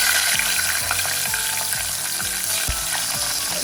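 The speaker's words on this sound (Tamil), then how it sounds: "துப்புரவாக்கி வச்சிருக்கிற இந்த உள்ளியை போட்டு பொன்னிறமாக பொரிக்க போகிறேன்." Garlic fries in hot oil in a pan, a steady close sizzle and crackle with occasional scraping stir sounds, no talking.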